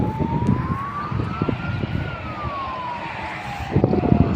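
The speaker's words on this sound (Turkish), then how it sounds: "ambulans gidiyor." An ambulance siren passes along a road, its wail gliding slowly up and back down in pitch over a constant traffic rumble, fairly loud and with no talking.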